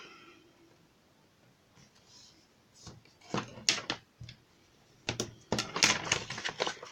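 Scoring 12 by 12 cardstock for a treat box, with scattered sharp scraping and tapping strokes that come in bursts, close and moderately loud after a quiet start.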